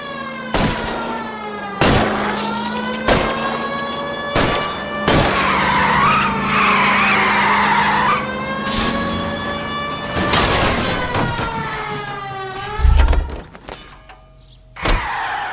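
Tires skid and screech repeatedly during a video game car chase in LA Noire, with engine roar, sharp bangs like gunshots or impacts, and long wavering squeals, loud and close throughout.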